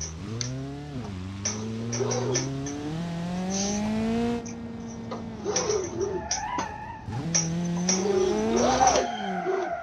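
Engine of a Lada in a Russian car mod video game, drifting on snow in winter, with rising and falling revs that sweep up and down repeatedly, loud and close throughout with brief gaps.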